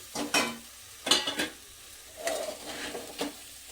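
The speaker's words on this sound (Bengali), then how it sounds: "এবারে দিয়ে দিচ্ছি ভেজে রাখা ফুলকপিগুলো আর ভেজে রাখা চিংড়ি মাছগুলো।" Rice frying in a pan with already-fried cauliflower and prawns gives off close sizzling bursts and scraping stirring strokes, several distinct pushes separated by quieter frying, with no talking.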